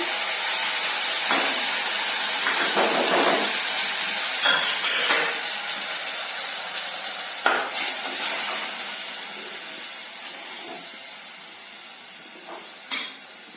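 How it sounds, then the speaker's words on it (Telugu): Boiled raw papaya pieces cooking in a pan with tamarind juice: a steady soft sizzle and hiss runs throughout, broken by occasional stirring scrapes and clinks. "ఇప్పుడు ఈ ఉడకబెట్టుకున్నటువంటి మన బొప్పాయి ముక్కల్ని కూరకు వేసేసుకున్నాం బాండీలో వేసుకున్నాం"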